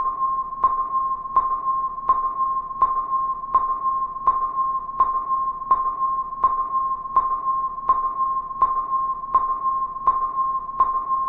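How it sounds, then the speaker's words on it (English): A steady electronic radar ping from the game Incredibox repeats about every seven-tenths of a second, a clear tone with soft echoing tails, continuing evenly with no voices. "Sounds like a radar ping."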